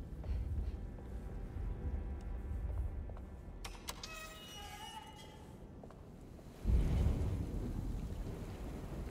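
Video game rain and thunder from the Alone in the Dark remake: steady rain hiss with a low rumble of thunder swelling near the end, plus a brief tonal chime in the middle.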